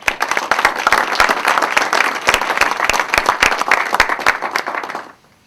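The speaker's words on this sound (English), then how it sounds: "I would like to give them a round of applause for your commitment" A small group at a press conference claps in a lively round of applause, individual sharp hand claps standing out within the patter, running for about five seconds before stopping abruptly into near silence.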